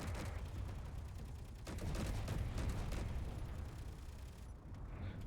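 Artillery turrets on a Space Engineers destroyer firing in a dense barrage, repeated booming blasts rolling into one another with low rumble, fairly quiet overall and with no talking.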